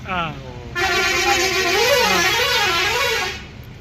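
A loud, sustained vehicle horn blares for about three seconds with a wavering, musical tone, preceded by a brief softer honk.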